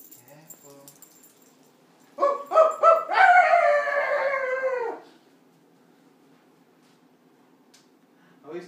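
A dog lets out a loud, drawn-out howl of several rising and falling notes lasting a few seconds, preceded by short yips, in a quiet room with faint background sounds before and after.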